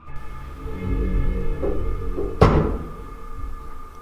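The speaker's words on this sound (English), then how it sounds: "it shuts again, only for another door to open, and bangs shut again" A single heavy bang of a door slamming shut cuts sharply through a low steady hum, with faint thumps just before it.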